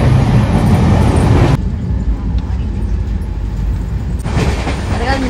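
Inside a moving train, a steady loud rumble of wheels and carriage noise runs throughout, easing briefly in the middle before swelling again.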